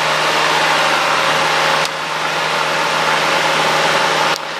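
Piper Warrior light aircraft engine at full takeoff power, a loud steady droning roar heard from inside the cockpit, continuous and even with a couple of brief clicks breaking through.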